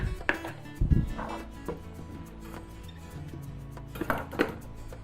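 A Chicago Cutlery knife chops scallions on a board, giving a few quick, irregular knocks close by, with light kitchen clatter in between and no talking.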